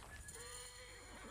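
A horse in Assassin's Creed Origins gives a long, wavering whinny. Hooves clip-clop underneath, set against loud game ambience.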